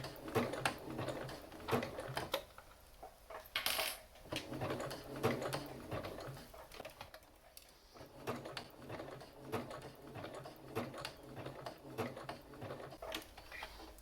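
A domestic sewing machine runs a zigzag stitch on a small fabric ornament, giving quick repeated mechanical ticks in uneven runs with short pauses, close and fairly quiet, with occasional faint handling noise.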